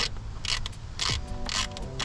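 A ratchet works a 10 mm bolt deep in the engine bay of a Nissan 350Z during an ignition coil job, giving several quick bursts of close, crisp clicking separated by short pauses.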